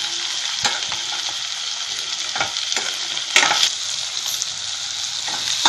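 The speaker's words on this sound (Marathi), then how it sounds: "कांदा आपण भाजून घेऊया. जरा 2 मिनिट आपण भाजून घेऊया." Chopped onion frying in a pan, a bright continuous sizzle broken by repeated sharp stirring scrapes of a spatula, fairly close and with no talk.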